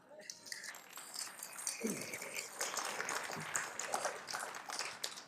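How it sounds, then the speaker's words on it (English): A room at a city council meeting applauds Tarrant County College with faint, scattered clapping that builds after a short pause. Murmured voices run beneath it. "You may applaud the college right now."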